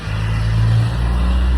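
A car rolls past on a road somewhere in Spain, a loud, steady low engine and tyre rumble that swells and then eases slightly, with no talking.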